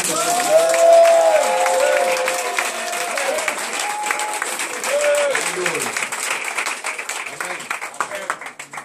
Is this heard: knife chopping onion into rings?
no